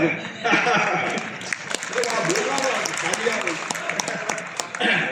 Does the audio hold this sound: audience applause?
yes